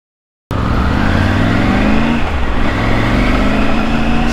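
A new motorbike throttles up hard on a plain cement road, its engine noise starting abruptly and holding loud and steady with rising revs that drop back near the end.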